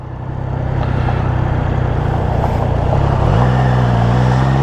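A 2024 Triumph Trident motorcycle engine revs up loud and close, a steady strong drone that rises in pitch partway through and holds high, with no talk over it.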